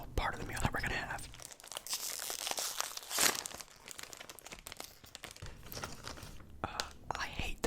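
A potato chip bag crinkles and crackles in close, quiet ASMR-style audio during a mukbang meal. The bursts are irregular and come with soft whispering.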